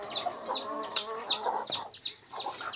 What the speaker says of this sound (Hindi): मुर्गे खा रहे हैं दाने, फीड खा रहे हैं सारे।